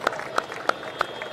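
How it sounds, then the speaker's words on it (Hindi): Rally crowd in Delhi welcoming Sukhvinder Singh Sukhu with sharp, evenly spaced claps, five beats in a steady rhythm over a background murmur. "जोरदार तालियों से सुखविंदर सिंह सुक्खू जी का स्वागत करें।"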